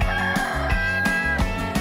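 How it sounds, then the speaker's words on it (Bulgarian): A rooster crows on a farm, loud and near, its drawn-out call repeating in rhythmic pulses with clucking fowl around it, no voices. "Ку-ку! Това е петел."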